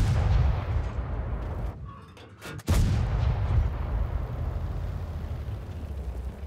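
In World of Tanks, a tank cannon fires one heavy, booming shot at close range, a sharp blast followed by a long rumbling decay over continuous low battle noise.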